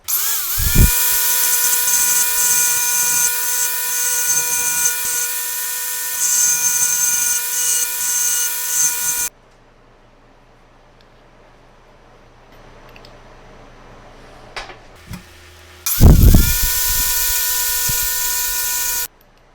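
Power tool grinding down a steel phone and overlanding mount for a Jeep Gladiator and JL, a loud sustained whine that cuts off about halfway, leaving quiet shop noise, then starts up again near the end.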